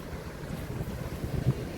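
Wind blows along a beach walkway at night, a low steady rumble of gusts buffeting the microphone with faint surf behind it, no talking.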